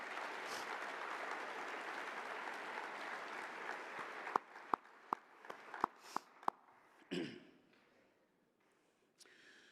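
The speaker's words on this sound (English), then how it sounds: "Let's have another round of applause for our national championship coaches" Audience at a track and field coaches' convention opening session applauds national championship coaches, steady clapping that thins into a few scattered loud claps and then fades out.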